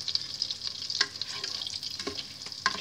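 Butter melting in a pan on the stove, ahead of sugar going in to caramelize for an apple charlotte, sizzles with a steady bright hiss punctuated by a few sharper crackles and spits, close up, with no voices.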